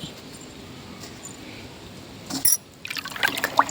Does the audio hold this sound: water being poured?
yes